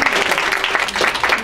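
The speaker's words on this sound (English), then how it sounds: "So let's give them a round of applause." An audience at a talk on executive functioning gives a round of applause; dense clapping carries on steadily at a fairly loud level, with a few voices mixed in.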